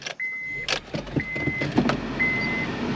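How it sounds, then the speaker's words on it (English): A 2003 Honda Civic engine cranks and turns over in neutral with a few mechanical clicks and whirs, then settles into a low idle hum. "We'll start the car."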